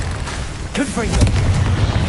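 A Confringo fire spell erupts in Hogwarts Legacy on PS5, a loud booming burst with heavy low rumble, a voice shouting over it amid ongoing battle noise.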